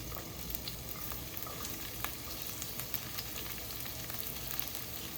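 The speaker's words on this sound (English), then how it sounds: "I'm gonna start with the fennel and the red onions." Sliced fennel and red onions stir-frying in a pan for cioppino, a faint, steady hiss of sizzling with light crackles throughout.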